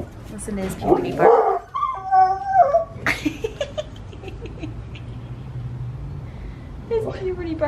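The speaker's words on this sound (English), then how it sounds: "Listen to his puberty bark." A young dog at the age its bark is breaking gives a few squeaky, cracking barks and yips, some rising into a howl-like whine, with a person's voice heard in between.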